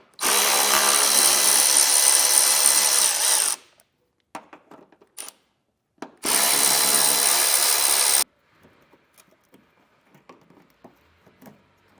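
A power tool zips out 10mm bolts on a 2022 Jeep Grand Cherokee in two loud, whirring bursts of a few seconds each, followed by small clinks and rattles of parts being handled.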